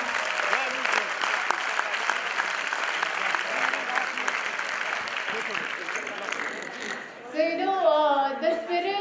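An audience at a business symposium claps steadily for several seconds, a dense even patter of applause that fades before a voice begins speaking at the end.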